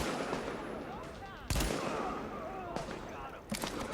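Gunfire in Tom Clancy's The Division cracks out in sharp, loud single shots and short bursts spaced a second or two apart, with battle noise and voices in between.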